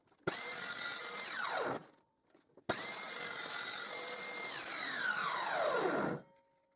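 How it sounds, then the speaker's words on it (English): A power saw cuts a 1 cm thick wooden board in two loud passes, each starting abruptly with a high whine, holding steady, then winding down as the blade slows, with a short quiet gap between them. "First I will cut this 1 cm thick board to get a long piece and a short piece."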